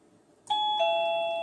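A MECO wireless plug-in doorbell chime at its loudest level rings out loudly and clearly, two tones, the second note following the first and ringing on steadily.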